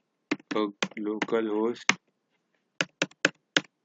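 After a short spoken word, four crisp, close keystrokes on a computer keyboard tap out in quick, even succession, with silence around them.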